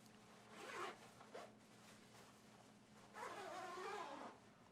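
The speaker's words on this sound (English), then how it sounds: "Pull up zipper to the top." Two quiet zipper pulls on a Tyvek protective suit, a short one near the start and a longer one later, with soft rustling of fabric in a still room.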